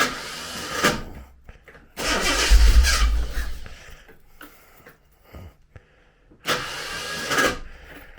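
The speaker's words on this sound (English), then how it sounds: "Oh, start motor." The starter motor of a Reliant Scimitar GTE cranks in short whirring bursts, close and loud, with quieter gaps between attempts and no talking.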